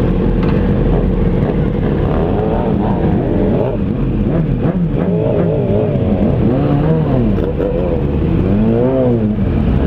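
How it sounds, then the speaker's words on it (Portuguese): A large group of more than twenty motorcycles on a street ride, their engines revving and droning loudly and close by without a break, with rising and falling pitch sweeps as riders throttle up. "moto pra caramba no rolê"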